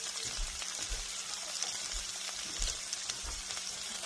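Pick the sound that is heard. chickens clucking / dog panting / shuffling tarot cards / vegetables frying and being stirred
vegetables frying and being stirred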